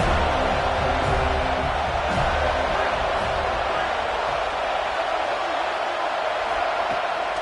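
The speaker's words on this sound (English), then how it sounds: "how nice is it to have the home crowd going absolutely bananas?" A home crowd roars at a college football game between FSU and VT, a dense, loud and steady wall of cheering that fills the whole stretch without a break.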